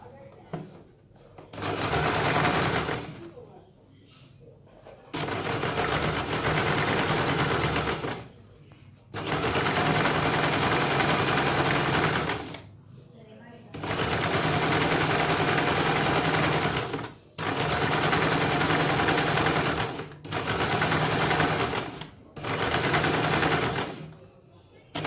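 An electric sewing machine joins salwar pieces in long, steady runs of loud, rapid stitching, each lasting a few seconds and separated by short pauses, with someone speaking between runs.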